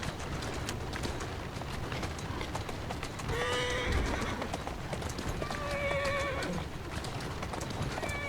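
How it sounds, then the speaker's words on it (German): Horse in Assassin's Creed Syndicate, set in Victorian London, with steady clip-clop hoofbeats throughout and two clear whinnies partway through, heard over a busy street background without speech. "Wer ist ein gutes Pferdchen? Du bist das."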